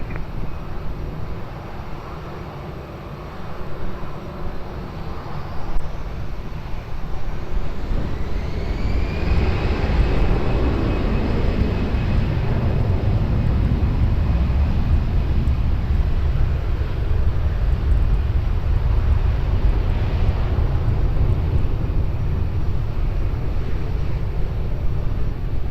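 A fixed-wing airliner on takeoff from runway 20 at Lisbon Airport, its engine roar building into a loud, sustained broadband rush with a rising whine, heard from a distance and continuing steadily.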